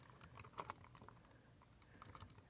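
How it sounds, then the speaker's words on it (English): Quiet, rapid keystrokes on a computer keyboard in short irregular bursts, close by with no talking, as HTML code is typed. "I'm going to go ahead and start typing in my text"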